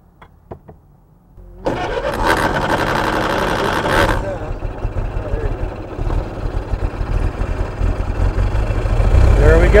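Wood-gas fueled Model T Ford engine catches and settles into a steady, loud idle with a dense rumble, after a few faint taps and a quiet start, and the idle grows a little louder toward the end.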